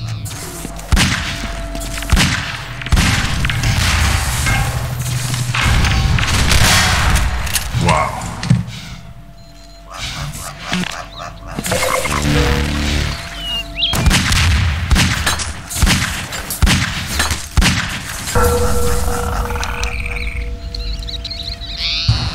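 Grenades go off repeatedly during a one-on-one Half-Life 2 Deathmatch game, with loud booms mixed with gunfire, in-game effects and the clatter of movement. A player talks intermittently over the action.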